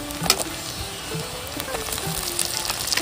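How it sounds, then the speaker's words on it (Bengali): Chopped tomato goes into browned onions in a hot pan, bringing a steady, close sizzle and hiss of frying with faint stirring clicks throughout. "তো এবার দিয়ে দিচ্ছি ছোট সাইজের একটা টমেটো কুচি।"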